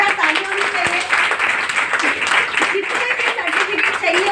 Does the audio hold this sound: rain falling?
no